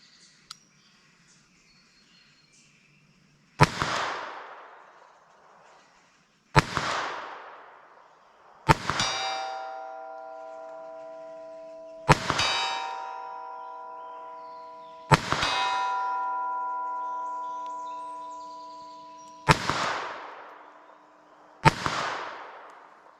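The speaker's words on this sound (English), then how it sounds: "load up this gun and shoot some more" Seven sharp gunshots from a .22 LR or .32 S&W Long pocket pistol, fired at a steady, unhurried pace. Each shot is followed by a bright ringing clang from the struck metal target, with quiet gaps between shots and no talking.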